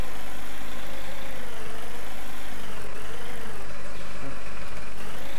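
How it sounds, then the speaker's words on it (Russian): A tractor engine in the farming game Farm Expert 2017 idles with a steady low drone and a slowly wavering mid tone, continuous and fairly loud throughout. "Было сказано заглушить трактор."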